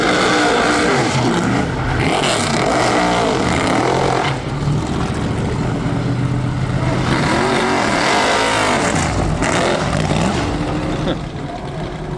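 A Panoz Esperante GT1 race car drives at Goodwood with a loud, close engine roar that rises and falls as it revs and accelerates, holding throughout with faint voices underneath.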